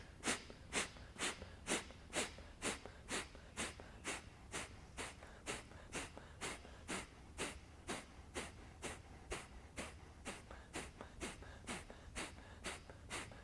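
Rapid, rhythmic pumping breaths from a yoga breathing exercise, about two forceful huffs per second repeated steadily, close and fairly quiet with no talking.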